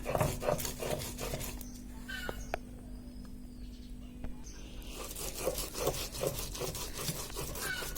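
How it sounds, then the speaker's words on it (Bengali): Dried fish is ground by hand on a grinding stone, a rhythmic, fairly faint back-and-forth scraping that repeats steadily, pausing briefly in the middle before resuming. "এখন শুটকিটা বাটা দিব আমরা"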